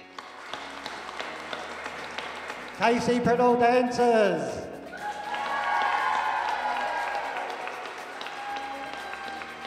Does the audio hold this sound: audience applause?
yes